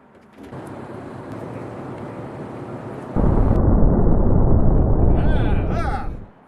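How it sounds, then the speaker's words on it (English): Empty barrels roll and explode in the monster film Yongary, Monster From the Deep, making a sustained, heavy rumbling roar. It jumps to a louder, denser blast midway before fading at the end. "he's rolling down empty barrels of things, which apparently explode"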